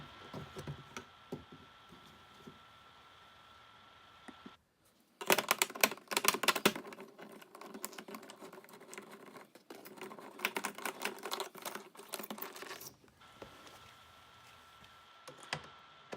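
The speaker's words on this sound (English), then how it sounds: "use a T30 star screwdriver. That's going to let me take those screws out" Ratcheting clicks and small metallic ticks of a T30 star screwdriver backing screws out of a 2004 Saab 9-3 door panel, in close bursts with pauses between, faint background hum in the quieter stretches.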